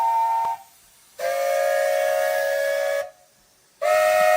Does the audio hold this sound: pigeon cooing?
no